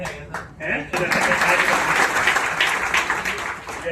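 An audience claps at an office Diwali party, with loud, dense clapping that swells after a brief quieter start and mixes with crowd noise and talk.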